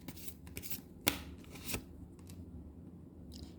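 Tarot cards are shuffled and drawn close by, a soft papery rustle broken by a couple of sharp flicks, all very quiet.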